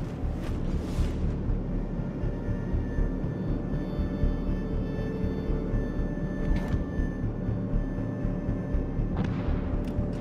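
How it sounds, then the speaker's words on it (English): Warship artillery in World of Warships: Legends booms in heavy, rumbling volleys, with deep rolling blasts repeating over a continuous low battle drone. "Concentrate fire on the enemy warship."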